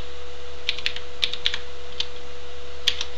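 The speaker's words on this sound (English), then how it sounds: "And now I'll type in the word username." Short burst of typing on a computer keyboard, about eight crisp, close key clicks spaced irregularly over a faint steady hum, with no talking.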